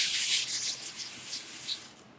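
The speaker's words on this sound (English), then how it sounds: "You could hear the difference as you're sanding, how rough" Sandpaper rubs back and forth across a rough, unsanded MDF board, a close, loud scratchy hiss in uneven strokes that tails off at the end.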